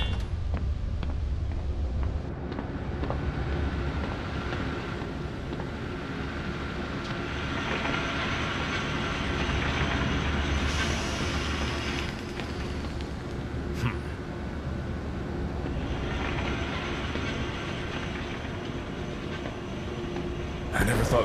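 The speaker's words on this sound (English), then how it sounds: "A train, trolleys." A zoo train pulling trolleys in the video game Zoochosis rumbles along in a continuous low rolling drone with faint rattles, and a voice talks over it now and then.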